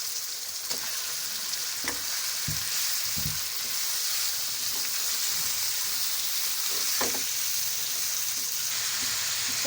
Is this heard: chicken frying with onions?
yes